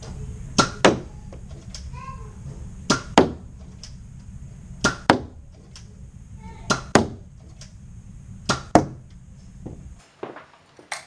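A Nerf gun being fired repeatedly, each shot a sharp near thwack followed by a quieter click or clatter, spaced a second or two apart over a low steady background hum.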